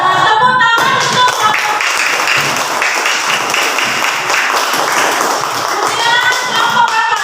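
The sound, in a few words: classroom applause for a student group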